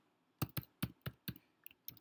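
Keys clack on a computer keyboard as an email address is typed, giving about seven quick, crisp taps in an uneven rhythm, close up with no voice.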